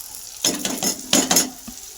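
Spices, masala and fenugreek are sautéed and stirred in a pan for a garlic-methi dish, with a few distinct scraping strokes over a faint background sizzle.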